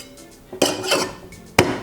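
A cocktail mixing glass full of ice being capped with a shaker tin, giving two sharp metallic-glass knocks about a second apart, each followed by a brief rattle of ice.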